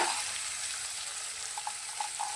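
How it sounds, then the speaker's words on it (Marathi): Pavta beans frying in an iron kadhai, a steady soft sizzle running throughout with a few faint pops near the end, close and moderately quiet, no voices. "बघा मस्तपैकी फ्राय झालेत"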